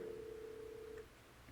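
A telephone rings with an incoming call during a live day-trading session, a single steady electronic ring tone lasting about a second before cutting off, fairly quiet and alone.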